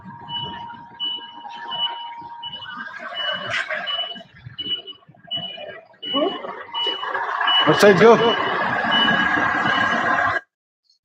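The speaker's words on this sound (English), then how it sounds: "I can hear a lot of truck noises in the background there too." Reversing beeps from a truck repeat steadily in the background while heavy truck noise rumbles and swells, with a person speaking briefly over the din.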